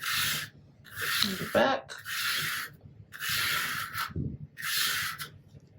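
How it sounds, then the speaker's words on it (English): A scraper drags across a sublimation HTV transfer on a shirt in four loud, rasping strokes with short pauses between them, and a voice speaks briefly in one gap. "We're going to give this a nice scrape"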